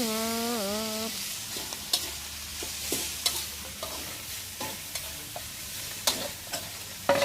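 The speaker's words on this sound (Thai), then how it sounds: "แล้วก็ผัดให้กระเพราสลบสลาย" Holy basil being stir-fried into a spicy Thai frog stir-fry, a low sizzle in the pan broken by repeated scraping and clacking strokes of the spatula, close and fairly quiet with no talk.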